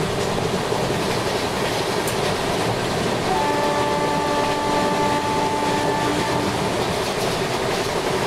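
A train running in Indian Train Simulator, a loud, steady rolling rumble of rail wheels and carriages with a faint sustained tonal whine partway through, no talking.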